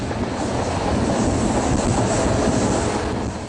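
A regional passenger train in Brazil rolls along the tracks through urban areas, giving a steady, loud, close rumble of wheels and carriages that holds constant for the whole stretch with no voices.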